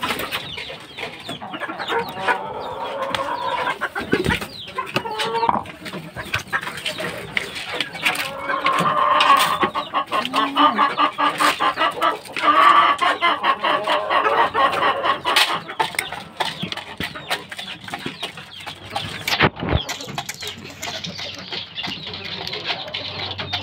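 Chickens clucking at close range, with hens and young gamecock chicks kept for fighting, alongside some crowing; the calls come in a dense, continuous, busy stream with no talk.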